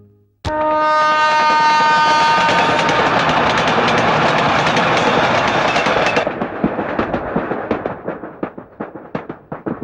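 A train rumbles loudly along the rails, with a high metallic squeal early on, then rhythmic clacking of wheels over track joints as it rolls on.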